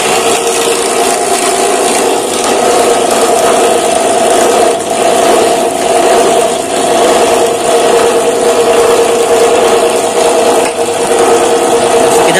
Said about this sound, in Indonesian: mesin pecacah sampah plastik